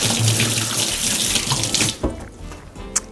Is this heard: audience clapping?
no